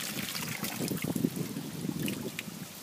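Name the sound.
water falling out of aquaponics water box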